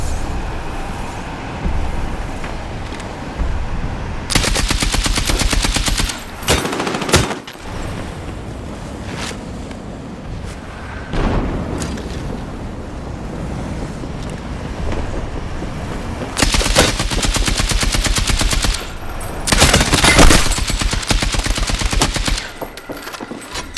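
Bursts of automatic gunfire in the video game Battlefield 6, loud rapid volleys in several separate stretches, with windy ambience between them.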